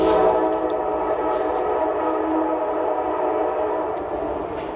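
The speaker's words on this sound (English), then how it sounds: "Train's here." A train rumbles past loudly and close by, a continuous roar of wheels and rail noise that fades slightly toward the end.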